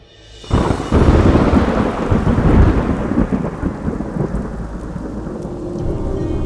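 A steady, heavy downpour of rain is heard with a loud rumble of thunder that builds early and rolls on under the rain before easing into a constant, dense hiss.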